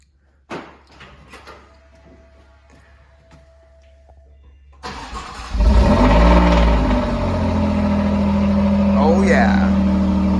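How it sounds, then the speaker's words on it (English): Alfa Romeo Giulia Quadrifoglio engine cold-starting: a few faint clicks and a quiet pause, then a loud sudden catch and roar that settles into a steady, rumbling high idle up close. "do a little cold start."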